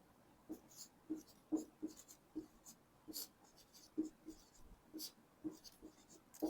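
A pen or chalk writing numbers during a maths lesson, a run of short taps and scratches in an irregular rhythm, faint and close, with a little soft speech in the background.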